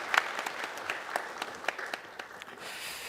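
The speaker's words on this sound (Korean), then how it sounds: "한 번 더 박수해 주시기 바랍니다" A short burst of applause from a small church congregation during a Sunday service, quick scattered claps fading out after a few seconds.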